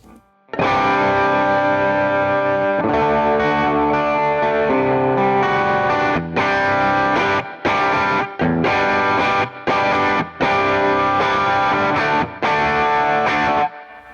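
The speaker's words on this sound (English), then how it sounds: "There's a little bit of tremolo in that now, which is kind of cool." Electric guitar played through an AmpliTube Fender amp simulation with tremolo and drive, loud chords pulsing and chopped into rhythmic bursts with short gaps, alone with no talk.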